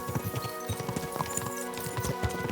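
Horses galloping in the video game Kingdom Come Deliverance 2, a rapid rhythmic clip-clop of hooves close by over a steady background, with no talk.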